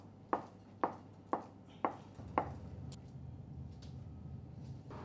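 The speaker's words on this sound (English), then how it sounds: "We chop it up a little bit." A knife chopping a piece of ricotta on a board, five quick sharp thuds in a row followed by a quiet pause with faint background hum.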